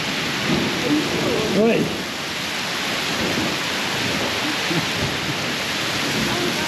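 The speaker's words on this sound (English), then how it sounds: "That's definite rain." Heavy rain pours steadily as a dense, constant hiss, with a brief low rumble near the start and a short spoken word over the downpour.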